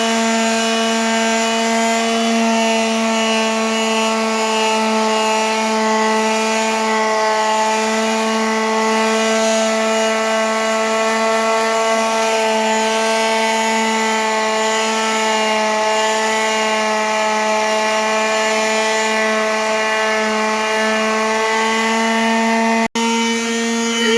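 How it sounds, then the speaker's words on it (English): A power sander whines continuously on wooden shelves with a steady, strongly tonal hum, loud and close, for over twenty seconds without pause. "Look at my child using power tools. He helping me sand the shelves"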